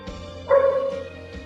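A dog barks once, loudly and close by, during a Rotary Club morning gathering, a short tonal bark with faint background noise around it.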